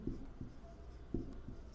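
Chalk or marker writing on a board during a Hindi-medium class 12 maths lesson, heard as two short bursts of scratchy strokes close by in a quiet room with low background hum.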